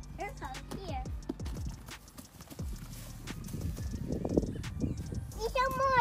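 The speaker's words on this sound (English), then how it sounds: "Feeding the horse some grass." A horse being fed grass outdoors, with clopping hooves and snorting sounds mixed with children and adults chattering, plus a high whinny-like call near the end.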